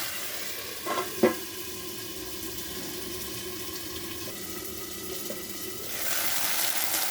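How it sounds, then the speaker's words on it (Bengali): Potatoes and green chillies frying in oil in a covered pan, a steady even sizzle and hiss close by, with a couple of brief knocks early on and a louder hiss toward the end. "এখন একটু মাঝখানে ফাঁক করে এখানে দিয়ে দেবো লঙ্কাগুলো, এর সঙ্গে ভাজা ভাজা হয়ে যাবে।"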